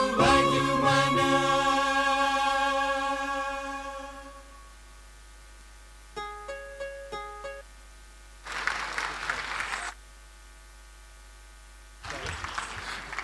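At a Rama Navami celebration at a Hindu temple, a sung devotional melody fades out and a few soft instrumental notes follow. Two short bursts of audience applause then break out for the singers, separated by a quiet gap.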